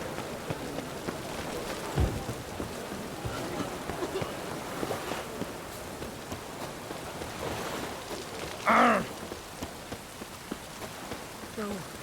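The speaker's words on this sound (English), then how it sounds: "Let it rain." Steady rain falls on surfaces in The Witcher 3, a constant close patter with scattered drops and one louder splash or thump near the end, mostly on its own with no clear speech.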